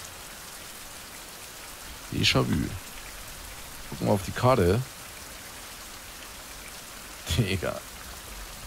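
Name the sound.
rain falling in the video game Survival: Fountain of Youth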